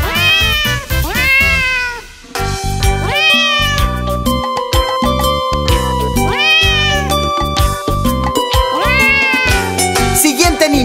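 A cartoon cat meows loudly several times in a children's farm-animal song, over bright, steady backing music that continues throughout.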